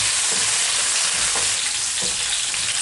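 Cashews and raisins fry in hot oil for Kerala-style chicken biryani, producing a loud, dense, continuous sizzle with a few faint stirring knocks, close up and with no voices.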